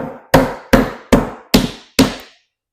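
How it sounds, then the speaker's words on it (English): Five hard hammer blows on wood, knocking glued pieces off old furniture, land at an even, deliberate pace, each a sharp loud strike with a short ringing decay, then silence. "I have no idea if I'm strong enough to hammer these off"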